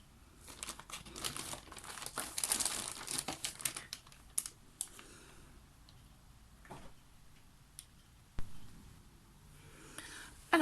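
Dry, papery crinkling and rustling of metallic foil flakes handled over a gel press for painted scrapbook crafts, close and busy, loudest early on, then sparser with occasional ticks and a few sharper snaps.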